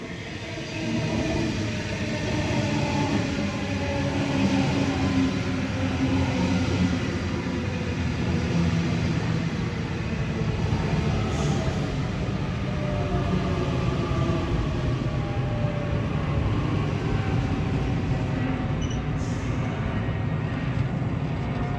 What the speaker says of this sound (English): And that was set B33, one of the newest Waratahs that was introduced earlier this year.